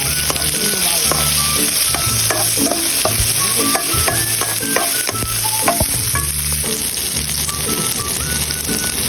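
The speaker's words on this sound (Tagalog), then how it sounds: "Tara guys, gisa na tayo. Syempre, ang bawang. Syempre, ang sibuyas." Garlic and onion sauté in a hot pan for gisadong ampalaya, with a loud, close sizzle throughout and rapid clattering, scraping strokes of the spatula against the pan.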